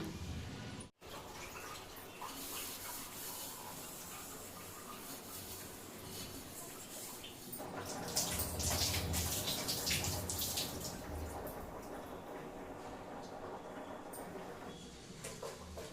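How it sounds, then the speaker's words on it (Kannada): Dishes washed by hand under a running kitchen tap, a steady faint stream of water with light clinks and splashes that grow louder midway, with no talking. "ಅಷ್ಟರಲ್ಲಿ ಸ್ವಲ್ಪ ಪಾತ್ರೆನ ತೊಳೆದಾಕ್ಬಿಡೋಣ."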